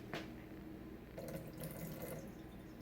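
Water splashes steadily into a sink as a container is emptied out, a continuous running, gushing wash with brief louder surges, fairly close and with no talking.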